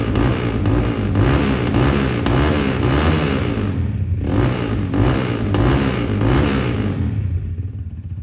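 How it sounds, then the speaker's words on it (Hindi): A heavy motorcycle with its original stock exhaust revving hard and loud up close, its throttle rising and falling in repeated surges over a steady rumbling idle. "आपने देखा इसका साउंड टेस्ट, ये अपना ओरिजिनल इसके अंदर स्टॉक एग्जॉस्ट लगा हुआ है"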